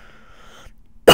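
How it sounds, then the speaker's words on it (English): A single sharp cough bursts out loudly at the very end after near silence. "I have a cough"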